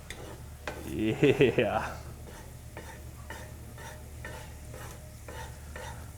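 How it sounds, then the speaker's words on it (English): Garlic cooking slowly in oil in a pot, a quiet low sizzle running steadily under repeated stirring scrapes and light utensil knocks, with a brief spoken remark and a burst of voice early on. "you add the oil to the pot, and then you add the garlic, and you cook that up"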